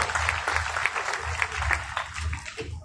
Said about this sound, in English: How about another round of applause for Baby and Tina?